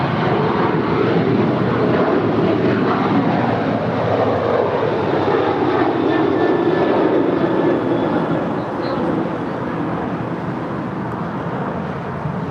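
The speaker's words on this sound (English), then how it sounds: "This is Alaska 290 departing to Guadalajara. It's a 737-900." Alaska Airlines Boeing 737-900 departing Los Angeles for Guadalajara, a loud continuous engine roar with a thin whine running through, rumbling steadily before easing slightly near the end.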